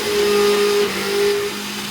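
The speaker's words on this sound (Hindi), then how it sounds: "ये मैंने चला दिया, ये देखें, ये अब ग्राइंड हो रहा है।" A mixer grinder runs while grinding mint chutney, a loud steady motor whine with a shift in pitch partway through.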